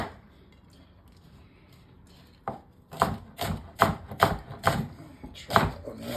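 A knife roughly chops an onion on a cutting board, starting quietly and building into about eight firm, evenly spaced chops, close and clear with no talk.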